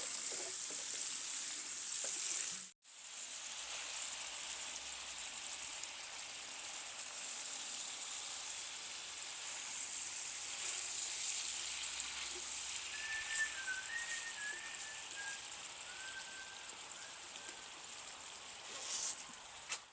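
Onions cooking down in sausage drippings give a steady, moderately loud sizzle and hiss that runs unbroken, apart from one brief dropout near the start, with faint high whistling tones partway through.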